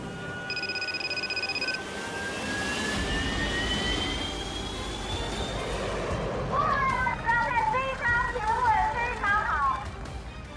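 A Chengdu J-10 fighter jet on its first flight in 1998, its engine a loud roar with rising whining tones that swell over several seconds, while voices carry in the background.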